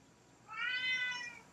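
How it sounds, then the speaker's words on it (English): A single drawn-out cat meow, rising and then fading, clear and fairly close against quiet background noise in a golf video game stream. "That cat."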